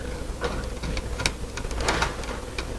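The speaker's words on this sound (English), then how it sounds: "now we'll take our screwdriver and we'll tighten down the screws" A screwdriver turned by hand tightens the screws on a light switch, giving small close ticking and creaking clicks in an uneven rhythm against a low steady background.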